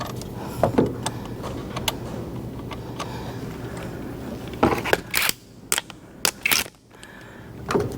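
Battery terminal nuts on a Mazda being tightened with a hand tool, giving a run of short metallic clicks and ratcheting bursts, close and fairly loud, with no talk.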